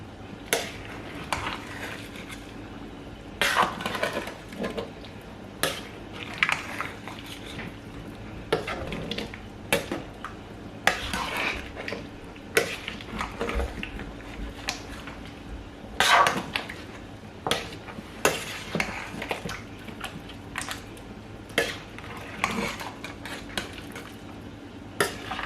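Beef is stirred in a large pot during bulk home cooking, a spoon scraping and knocking against the metal in irregular bursts, close and fairly quiet, with a faint sizzle underneath.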